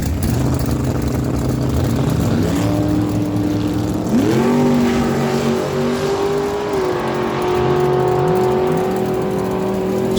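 Cars at a drag strip on an eighth-mile track, including an 80 Datsun 280ZX, rev loudly and roar with rising engine pitch as they launch, sustained and close with no talk.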